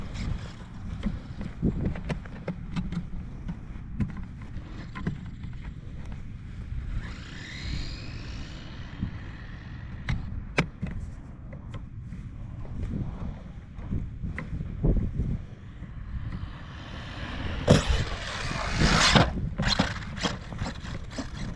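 An HPI Savage XS Flux RC car drives outdoors, its electric motor whining and briefly rising in pitch over steady wind rumble and scattered sharp knocks and clatters, with a louder, rougher burst near the end.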